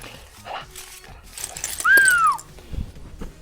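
A dog gives a single high, drawn-out whimper up close, framed by a few soft, brief sounds in a quiet indoor space, with no one speaking.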